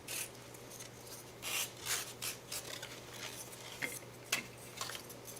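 Light sanding of a handmade dungeon terrain miniature, soft scratchy rubbing strokes in short irregular bursts, close and quiet, with no talking.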